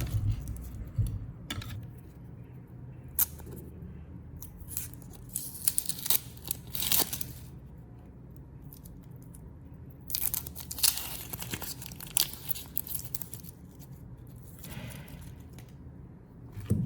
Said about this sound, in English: This makes peeling super quick and effortless.